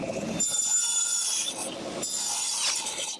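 Wooden boards are cut to length for a small box, two loud passes of a saw through the wood, each a sustained whining cut with a brief drop between them.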